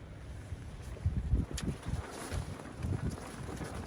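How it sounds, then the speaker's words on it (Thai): Strong wind at a fishing camp during a rainstorm buffets the microphone in irregular low gusts, swelling and easing over several seconds with no one speaking. "ฝนเบาลงแล้วนะครับ แต่ลมก็ยังมีอยู่"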